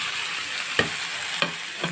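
Local tomatoes and potatoes fry with pork in a hot pan, giving a steady close sizzle broken by three sharp scrapes of a stirring spoon.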